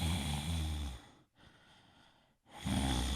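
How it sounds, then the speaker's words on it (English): A person breathes heavily in a sinister way, a loud drawn-out breath in, a quieter hollow pause, then another heavy breath out, close to the microphone with no talking. "I'm going to go for a more sinister breathing pattern."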